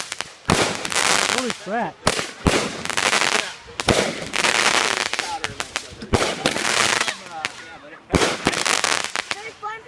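Fireworks launching and bursting, with repeated loud cracks and booms, whistling rising streaks and crackling bursts in rapid succession close by, while people exclaim and talk over the display.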